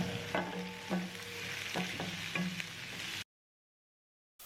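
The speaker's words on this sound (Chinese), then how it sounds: "我们这里要全程开大火翻炒，把鱿鱼炒至入味" Squid tossed with green and red peppers in a wok over high heat, with rhythmic scraping of the spatula over a steady sizzle. A short stretch of silence near the end interrupts it.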